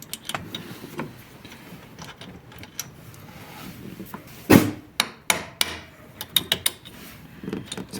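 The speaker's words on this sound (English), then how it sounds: "the screw does not want to come out, so you have to tap it so you can remove the screw" A hammer tapping a stuck screw loose while replacing the thermostat on a 1.9 8V or 2.4 10V JTD MultiJet engine: several sharp, close metallic knocks at irregular spacing, some doubled, over quiet workshop rustling.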